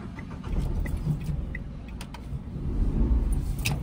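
A car on the Sangli highway at night gives a continuous low engine and road rumble heard from inside the vehicle, swelling slightly toward the end as it turns.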